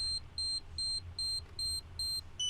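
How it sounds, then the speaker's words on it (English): A Medicube Ussera Deep Shot beauty device gives a series of short, high, evenly spaced beeps, six or seven in quick regular succession, clear against a quiet background. "it's gonna beep to indicate that it completed 10"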